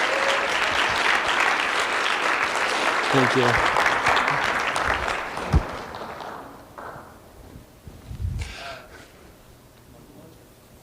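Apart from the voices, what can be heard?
audience applause for Wade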